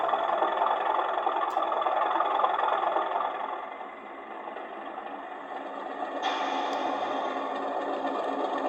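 Heljan O gauge Class 37 model locomotive with DCC sound, a steady diesel engine rumble and idle drone, dipping slightly midway and then rising again, with a faint high whistle tone.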